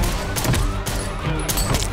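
Rapid gunfire from the film John Wick: Chapter 2 bursts out in quick repeated shots that overlap in a dense fusillade, loud and close.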